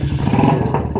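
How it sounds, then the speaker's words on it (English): A Royal Enfield Meteor motorcycle fitted with a BSA exhaust pipe revs close by, a loud, throbbing engine burst with a rattling exhaust note in a short blast. "That is a BSA pipe on this wonderful little Royal Enfield Meteor."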